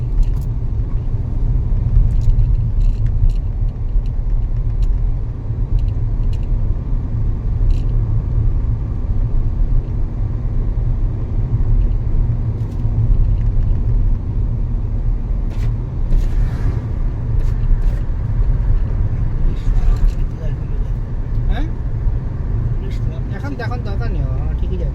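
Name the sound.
car driving on highway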